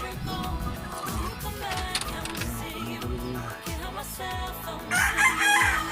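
Chickens cluck and a rooster crows amid a busy, noisy yard, with overlapping calls and a louder burst of squawking near the end.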